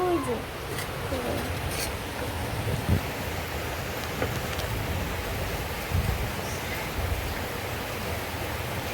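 Steady rain pouring outdoors in a Bangladeshi village, a continuous even hiss with a few soft thumps and drips.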